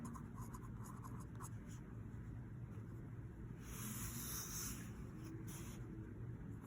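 Pencil drawing and shading on paper for a cone shading exercise, a faint, continuous scratchy rubbing that swells a little louder midway through, with no speech.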